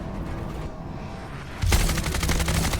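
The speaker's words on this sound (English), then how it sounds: "That's gun audio" Gunfire from a first-person shooter video game erupts after a quiet stretch, a loud, rapid burst of shots that continues to the end.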